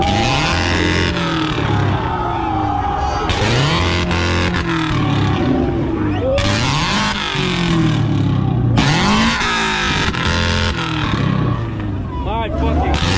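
Motorcycle engines rev hard at a rev competition at a sportbike meet, loud and close. Throttle blips rise and fall in pitch, with overlapping bursts that swell and fade continuously throughout.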